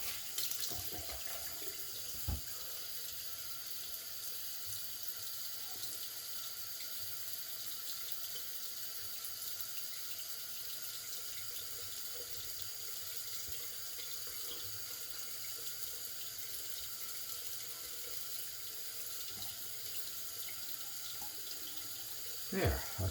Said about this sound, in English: now let's switch that over to cold, let that run cold for a minute